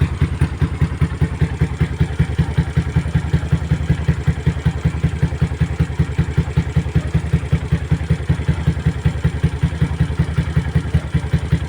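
An LF110 motorcycle engine fitted with a racing CDI idles steadily after starting, a close, loud, evenly pulsing low chug with light clatter and no voices.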